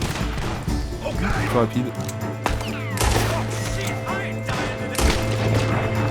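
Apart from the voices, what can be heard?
gunfire in a video game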